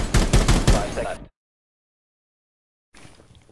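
A rapid burst of machine-gun fire from Buck in Rainbow Six Siege, shooting through a wall, loud and close for about a second, then abrupt silence before faint background noise returns.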